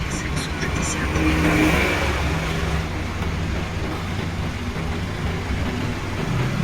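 A truck driving through a port to pick up a trailer, with a steady mid-pitched engine drone and road rumble throughout, loud and close from inside the cab.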